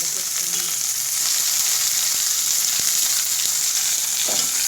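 Salna base frying in a pan with chilli, mint and coriander, a loud, continuous close sizzle with a few scraping stirs and no talking.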